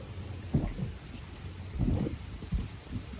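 Rain and rolling thunder around a boat anchored near fishing boats during a storm, with low rumbling bursts swelling and fading over a steady wash of rainfall, no voices.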